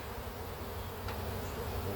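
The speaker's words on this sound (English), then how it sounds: "They're buzzing. That's for sure." Honey bees buzz at an open backyard beehive during a honey harvest, making a dense, steady, close drone that fills the whole clip with no talk.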